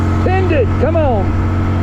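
A 2025 Honda Dax 125 motorcycle engine held at full throttle in top gear gives a steady, loud drone, with a brief voice speaking over it.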